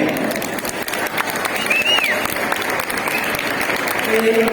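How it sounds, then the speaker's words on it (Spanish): A crowd at an auction of prize-winning Gamoneu cheese claps steadily throughout, a dense, even patter with voices and shouts mixed in and a brief whistle partway through. "un aplauso para que se anime"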